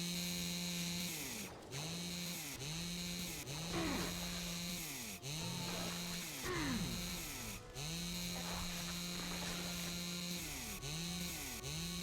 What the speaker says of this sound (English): The chainsaw launcher, if I do.